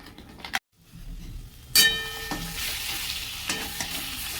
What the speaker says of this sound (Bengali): মশলাটা কষবো ভালো করে মাছের মাথার সঙ্গে সম্পূর্ণ হালকা আঁচে কষবো